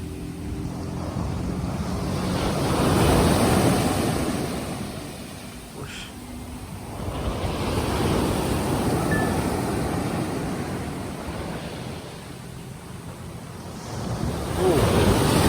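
Sea waves surge up the sand at Teluk Bahang Beach in Penang, Malaysia, a broad roar that swells and recedes in slow cycles, with wind buffeting the microphone.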